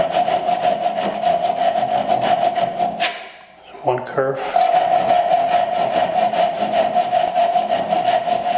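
Japanese Ryoba pull saw ripping a wooden board by hand for a bridle joint, steady rhythmic rasping strokes close up, with a short pause midway before sawing resumes; a voice speaks briefly.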